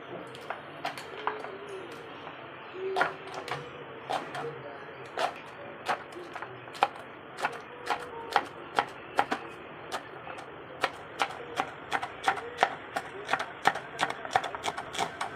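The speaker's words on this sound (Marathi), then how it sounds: "आणि हे वरचं पान घ्यायचं असतं जे याच्यामध्ये असतं ते बारीक चिरून घ्यायचं." A knife chops shevali (dragon stalk yam) leaves finely on a board, with sharp rapid taps that speed into a steady rhythm, close and clear over quiet room noise, with no talk.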